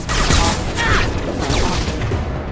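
Dense, continuous gunfire from a Mass Effect 2 firefight during Kasumi's loyalty mission: loud overlapping shots and booms fill the whole moment, with no speech over them.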